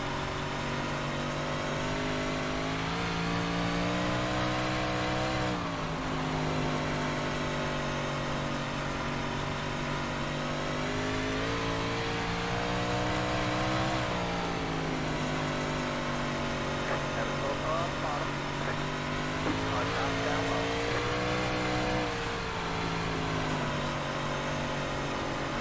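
Simulated race car engines drone and rev steadily during an online racing practice session on an oval with an apron, loud and continuous with shifting pitch and a few surges.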